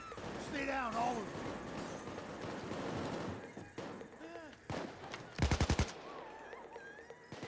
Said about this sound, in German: Ich schieß die Bullerei von oben direkt kaputt hier.